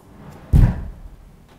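A sliding wardrobe door fitted with a brush damper rolls shut with a single soft, muffled thud, close by, followed by a brief fading rumble.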